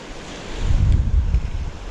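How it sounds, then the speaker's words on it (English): Wind and rough sea waves at an overcast shore during bass lure fishing: a broad roaring wash of surf that swells louder midway, with buffeting wind noise on the microphone. "cloudy and overcast, with a bit of wind and a bit of rough in the sea."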